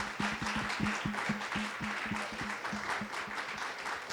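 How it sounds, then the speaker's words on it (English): An audience at a United Nations panel on conflict-related sexual violence in Ukraine applauds the women panelists. Broad, steady clapping fills the room, with a regular low thumping pulse running underneath. "Give an applause round for these amazing women."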